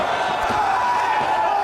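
Wrestling crowd at Abdullah the Butcher's Canadian retirement match roars steadily, a dense, loud wall of cheering and shouting from a packed arena that carries on without a break.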